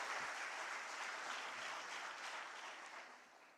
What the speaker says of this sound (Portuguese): dá uma salva de palmas a Ele